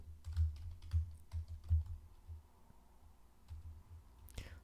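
Computer code being typed on a keyboard: a run of close, soft keystroke clicks in uneven bursts, slowing into sparse taps, with no talking.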